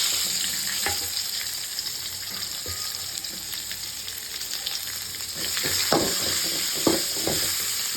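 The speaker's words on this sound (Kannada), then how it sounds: "ನಾನು ಇಲ್ಲಿ ಒಗ್ಗರಣೆಗೆ ಹಾಕೊಳ್ತೀನಿ ಆನಿಯನ್ನ, ಸ್ವಲ್ಪ ಕ್ರಿಸ್ಪಿಯಾಗಿ ಚೆನ್ನಾಗಿರುತ್ತೆ ತಿನ್ನೋಕ್ಕೆ ಅಂತ" Chopped onion fries with curry leaves and asafoetida in hot tempering oil for lentil sambar, giving a loud, continuous sizzle close by, with stirring scrapes and clinks rising near the end and no talking.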